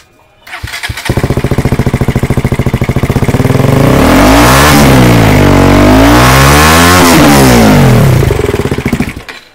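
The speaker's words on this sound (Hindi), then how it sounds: "तो ये थी इसकी एग्जॉस्ट की साउंड" A KTM Duke 200 motorcycle fitted with an R9 full-system exhaust starts up and is revved hard, giving a loud, close, throaty rasp. It climbs to a sustained high rev, dips and rises again, then settles back to idle, with no talking.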